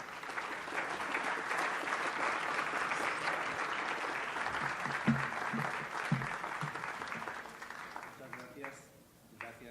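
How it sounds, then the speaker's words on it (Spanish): An audience gives sustained applause for a guest speaker at a literary presentation, a steady wash of many hands clapping that thins and fades near the end. "demos un cordial aplauso al maestro Blasco."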